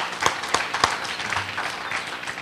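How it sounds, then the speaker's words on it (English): Sponsors at a street safety media kick-off event receive a round of applause from the audience, a dense, steady wash of many hands clapping with a few sharper claps standing out near the front. "Let's give our sponsors another round of applause."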